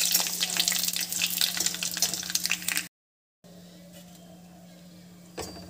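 Whole spices, cinnamon, cracked cardamom and nigella seeds crackle and sizzle in hot oil as they are stirred, loud and close, then a brief silent cut before quieter frying resumes with a spoon clink near the end.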